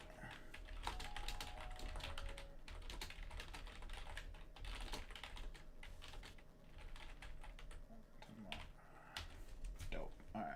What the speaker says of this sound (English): I'm typing real quick.